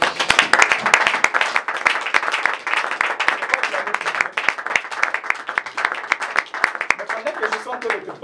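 A church congregation at a Pentecost service claps and cheers in praise, dense rhythmic applause filling the room at close range, with voices calling out over the clapping throughout.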